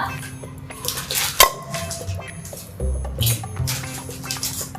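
Metal pots and utensils are scrubbed and knocked together in a kitchen, giving loud, close clattering and scraping with sharp clanks in irregular bursts, and no one talking over it.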